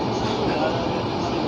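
The Godavari Express, running from Secunderabad to Visakhapatnam, rumbles past as a steady, loud, broadband roar of rolling rail cars, with a voice talking over it.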